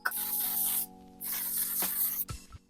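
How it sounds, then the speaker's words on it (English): Two long hissing bursts of a makeup setting spray, close by, with a short pause between them, then a faint soft knock. "I am going to put on some setting spray before I bake."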